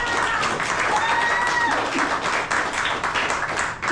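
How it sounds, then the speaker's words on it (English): Sustained audience applause and clapping fills the room, loud and even, honoring a former motorsports superbike team manager, with faint background sounds mixed in. "huge round of applause for this"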